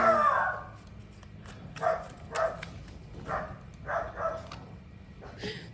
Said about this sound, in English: Sorry, my dog decided to go crazy.